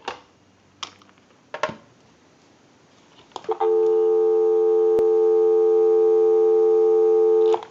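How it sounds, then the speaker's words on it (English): A rotary dial wall telephone gives a few clicks and clunks as the handset and line are handled, then a steady, loud dial tone starts and holds without a break, with no one talking. "Go ahead and give you some dial tone."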